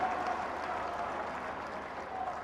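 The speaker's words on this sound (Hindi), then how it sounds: "ताली बजा के सब लोग" A large crowd at a political rally in Jaipur applauds steadily to welcome a speaker, a dense, even wash of clapping continuing throughout at moderate volume.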